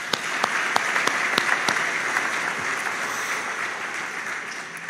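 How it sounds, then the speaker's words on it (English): Graduates at a spring graduation ceremony give themselves a round of applause, with sustained, moderately loud clapping and a few sharper individual claps standing out near the start. "Please give yourself another round of applause."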